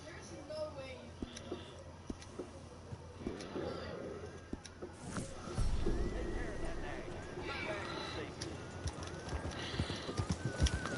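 Horse hooves clip-clop in the video game Red Dead Redemption 2, sharp irregular steps in a town setting, moderately close, with a whinny midway and a person talking over the sounds.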